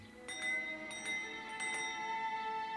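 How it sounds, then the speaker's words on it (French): A breakfast bell rings in clear tonal strikes, several overlapping chimes that ring on and sustain, moderately close in a quiet room. "C'est la cloche du petit déjeuner."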